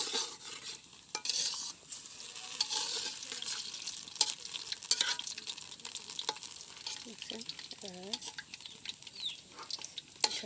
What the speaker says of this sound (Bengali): ছোটোভাবে একটা একটা করে ফিরিয়ে দেবেন, উল্টায় দিলে জড়াবে না।